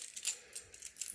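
A bunch of keys, including truck keys, jangling faintly and close by in a few quick metallic shakes with no talk over them.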